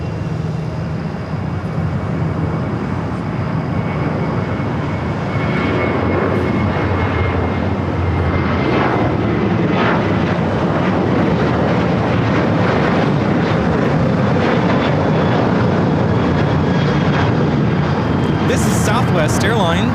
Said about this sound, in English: 3263 taking off to Las Vegas on the 737-700.